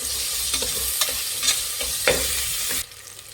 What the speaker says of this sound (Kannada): ವಾಶ್ ಮಾಡಿಬಿಟ್ಟು ಸಣ್ಣದಾಗಿ ಹಚ್ಚಿರೋಂಥ ಪುದೀನ, ಇದು ಅಷ್ಟೇ ಮಿಕ್ಸ್ ಮಾಡಿ.